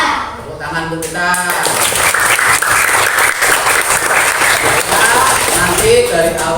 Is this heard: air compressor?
no